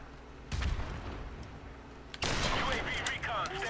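Gunfire in a video game, loud bursts of shots in two stretches over a busy game soundscape, with a voice talking briefly.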